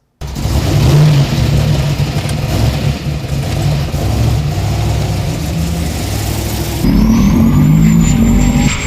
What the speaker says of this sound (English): It has a 540 in it with a 106 millimeter turbo called Elvis.